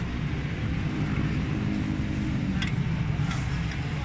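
A BOTH diesel generator engine runs steadily up close, a loud continuous low rumble and drone without pauses.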